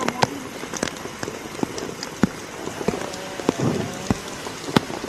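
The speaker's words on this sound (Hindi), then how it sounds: "दूसरी तस्वीर जहां पर बारिश हो रही है, वाहन चालकों को भी काफी परेशानियों का सामना करना पड़ा।" Rain falls during Cyclone Remal in West Bengal, a steady patter on surfaces with scattered sharper drops and knocks, moderately loud throughout.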